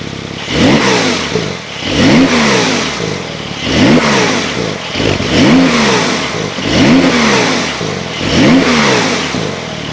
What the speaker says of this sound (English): I know you guys wanna hear what this car sounds like, so let's get some revs.